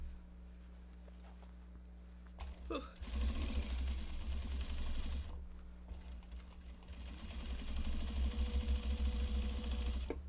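A sewing machine runs white top stitching on a fabric pouch in two rapid, whirring bursts, the second longer and steady, after a quiet start with light handling noises.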